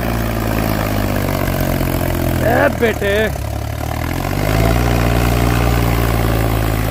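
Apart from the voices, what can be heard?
tractor engine running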